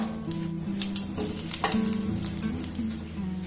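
A dried red chilli dropped into a small amount of hot mustard oil in a frying pan, giving a steady close sizzle with faint stirring scrapes and no voice.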